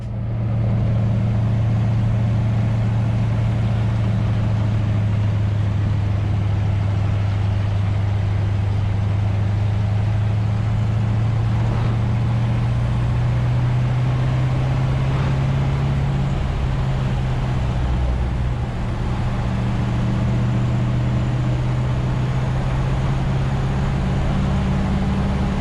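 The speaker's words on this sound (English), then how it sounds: "So I gotta jump in one of these old cars and start driving around." An old vintage car from a steam car collection runs at a steady low hum, its engine note drifting slightly in pitch over a long, constant stretch, close and fairly loud with no talking.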